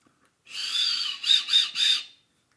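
A shrill toy whistle blows once in a long note, then three quick short toots follow, loud and close in a quiet room.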